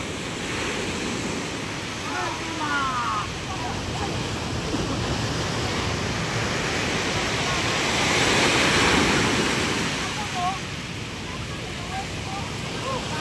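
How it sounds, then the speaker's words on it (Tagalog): Big ocean waves crash and roar with wind at a fish terminal in Julugan, Tanza, a swelling surge midway; faint bird calls and brief voices break through. "Dahil sa laki ng hampas ng alon."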